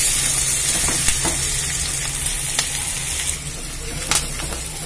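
Onions and curry leaves frying in hot oil in a pan for kalavai pulikkaai kulambhu, a steady close sizzle with small crackles and pops throughout, no talking.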